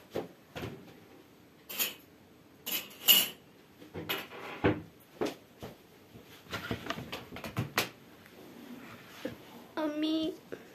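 A small spoon and dishes clink and rattle in scattered, close, sharp knocks and scrapes, spaced irregularly with quiet gaps, while a voice talks intermittently between them.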